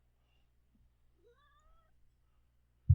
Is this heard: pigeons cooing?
no